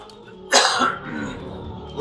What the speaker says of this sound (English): Dick Boots is coughing